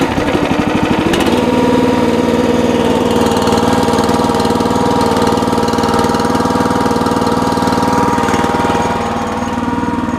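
A Red Rock Trencherman mini towable backhoe's engine runs loud and steady, with a sharp change right after it starts, then a constant droning hum with no talking.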